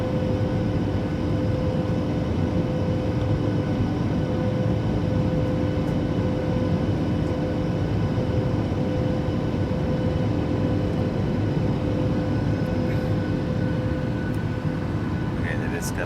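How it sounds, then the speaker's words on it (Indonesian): A Batik Air airliner climbs after takeoff, heard from inside the cabin as a loud, steady engine drone with a low rumble and faint hum, unchanging throughout. "Oke, jadi sekarang kita udah lepas landas"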